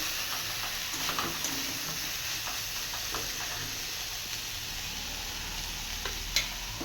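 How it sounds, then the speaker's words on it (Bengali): Broccoli stems and onion fry over high heat in a pan, a steady faint sizzle with occasional soft clicks and stirring taps. "একটু হাই হিট করে ভাজবো।"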